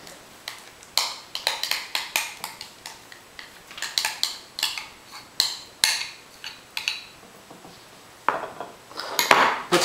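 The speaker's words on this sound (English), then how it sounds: "And then you can scoop it into your bowl." Guacamole being scooped from a mixing bowl into a serving bowl, heard as a steady run of clinking, tapping utensil strikes against the dishes, close and fairly loud, with no voices.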